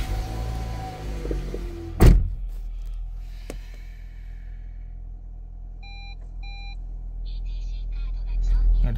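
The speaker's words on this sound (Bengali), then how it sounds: "গাড়িটা আমরা স্টার্ট দিয়ে দেখি।" A 2014 Toyota Harrier Advance Premium starts with a short, sharp crank, settles into a low steady idle hum, and chimes a few soft beeps from inside the cabin.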